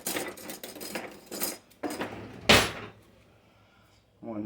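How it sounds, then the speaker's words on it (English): Cutlery clatters close by as a spoon is fetched in a home kitchen during chicken dinner prep, with several sharp metallic jangles, a loud clack like a drawer or cupboard, then quieter rattling. "Let me get a spoon."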